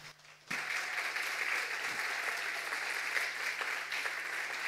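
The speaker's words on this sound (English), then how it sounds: "So please give them a welcome round of applause." A conference audience at a hacker camp breaks into applause welcoming speakers to a talk on VoIP phone security, sustained dense clapping that starts abruptly and carries on steadily.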